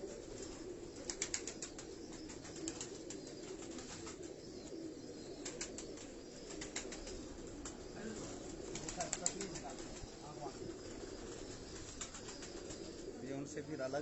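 Pigeons kept by a Karachi fancier coo softly at a distance amid rustling and wing flutters, with voices talking in the background throughout.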